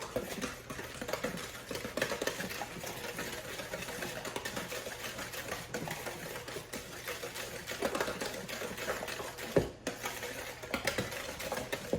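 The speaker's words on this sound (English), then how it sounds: "Mix all that together." Baking batter with applesauce is stirred and mixed in a bowl, giving a steady, continuous scraping and sloshing rhythm throughout, close and moderately loud, with no talking.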